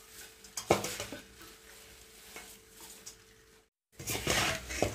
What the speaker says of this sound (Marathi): हा सर्व मसाला ह्या पोह्यामध्ये टाकून घ्यायचा आणि हे छान मिक्स करून घ्यायचा।